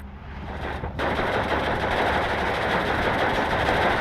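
Dense, continuous battlefield gunfire from Steel Division 2, a World War II strategy game, with artillery firing in a sustained rolling barrage that swells loud after the first second and stays heavy throughout.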